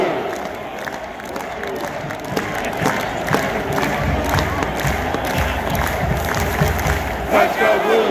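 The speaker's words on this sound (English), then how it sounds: "Now let's hear it. The big cheer from the big house." A huge football stadium crowd at Michigan's Big House roars and chants together in a pregame cheer, a loud, continuous mass of voices with rhythmic surges and scattered whoops rising and falling.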